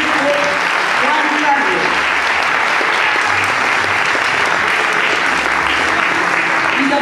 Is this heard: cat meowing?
no